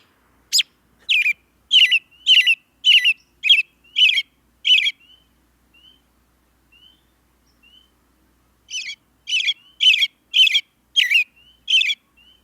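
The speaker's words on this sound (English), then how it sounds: "oftentimes it will throw in a kind of a chirpy noise, like a cheepy noise, I guess you could say, especially at the end of the song" A flycatcher's song in two bursts of sharp, rapid chirpy notes, each bout a rhythmic run of about seven clear calls separated by a few soft, faint high peeps; close and clean against silence.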